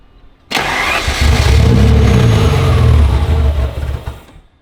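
A 1987 Ferrari Testarossa engine cranks on its starter motor, a loud sustained churning that begins abruptly and runs for several seconds without catching, close by and alone, then cuts off.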